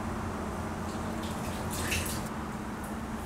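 Wet ingredients poured into a bowl of dry vegan whole wheat pancake mix give a steady, close liquid pouring and splashing wash under a low background hum, with no talking.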